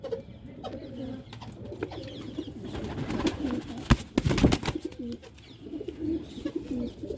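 Highflyer pigeons of the red Marwada type coo in soft, low murmuring phrases close by, with a brief louder rustle partway through and no talking.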